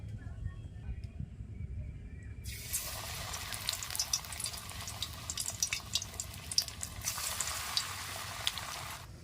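Pakora batter made with pond-side greens is dropped into hot oil in a kadai over a lit clay stove and breaks into a steady, bright sizzle that continues after a quiet start.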